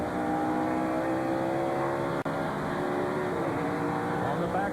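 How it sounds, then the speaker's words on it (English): Rusty Wallace's NASCAR stock car at full throttle from the roof-mounted onboard camera at Watkins Glen in 1996, a loud steady engine roar with shifting harmonic pitch and a brief dropout midway. "We ride with the root cam of Rusty Wallace, who's 5th."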